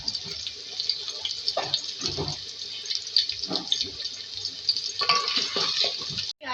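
Three medium chopped onions fry with cinnamon sticks and cloves for a quick beef bhuna, a dense continuous sizzle close up, broken by stirring scrapes and clinks, with no talking.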